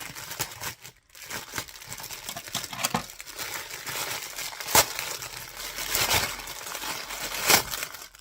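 Plastic packaging crackles and crinkles in a continuous, uneven stream of soft rustling, with a few sharper crinkles standing out. No one speaks.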